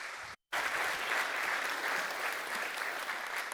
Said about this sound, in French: Un tonnerre d'applaudissements pour Olivier!